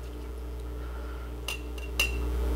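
Ingredients for an amaretto sour with Breckenridge bourbon go into a cocktail shaker over a low steady hum, with two quick metallic clinks close by.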